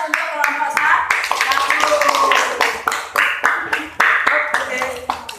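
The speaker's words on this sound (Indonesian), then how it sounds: "Ya, beri aplaus untuk kelompok 1." Classroom group applauding a presenting student group in an Indonesian vocational school, several seconds of steady clapping from multiple people close by, with voices talking over it.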